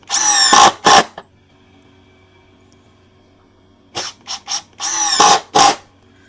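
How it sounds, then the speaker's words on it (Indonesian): A DongCheng cordless impact driver set to high mode drives screws in two bursts of loud, rattling hammering whine, a short pair of bursts at the start and then a run of short stutters building into longer bursts after a quiet gap. "Enak banget nih impact driver buat nyekrup."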